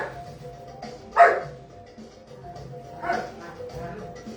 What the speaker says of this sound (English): The dogs are playing Bitey Face yet again.